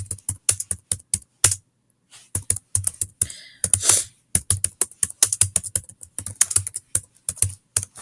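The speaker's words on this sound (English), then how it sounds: "I am going to go ahead and start typing" Rapid keystrokes clatter on a nearby computer keyboard in uneven bursts, with brief pauses and a louder rustle in the middle.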